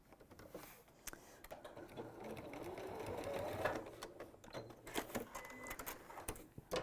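A sewing machine stitches elastic in place on fabric, a quiet, continuous mechanical whir close by, stopping and starting toward the end.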